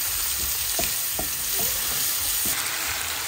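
Potatoes and tomatoes frying with ground panch phoron in a pan, a steady low sizzle with a few soft scrapes of stirring, quiet and close.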